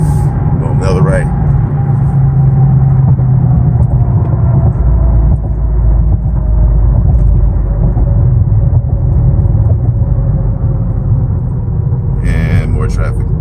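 A 2017 Dodge Charger Daytona 392 cruising through city traffic in New York, its engine a steady low rumble with road noise from inside the cabin, continuous and loud, with brief sharper noises at the start and end.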